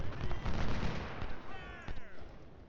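Volleys of Civil War musket fire from the strategy game Ultimate General Civil War crackle and rattle in quick overlapping bursts, with a dense, steady battlefield din throughout.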